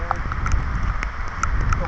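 Rain patters steadily onto a rice paddy at planting time, with scattered distinct drops ticking over a soft wash of falling water.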